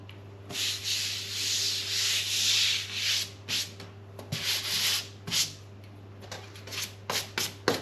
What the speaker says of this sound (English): So I'm just going to clean the surfaces.